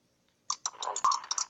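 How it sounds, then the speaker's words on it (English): Rapid clicks of a computer keyboard rise after a short silence, a close, quick burst of several keystrokes with one louder tap in the middle. "sorry, I'm typing,"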